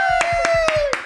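A few hand claps for a guest, about four evenly spaced sharp claps from a single nearby person, sounding thin rather than like a crowd, over a steady tonal hum.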